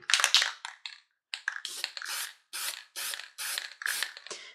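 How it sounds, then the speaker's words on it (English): Spray lacquer is applied to a rawhide knot in a series of short aerosol bursts, about eight hissing sprays with brief gaps between them, close and distinct, with no talk. "I'm just going to give it a coat of a spray lacquer to protect it"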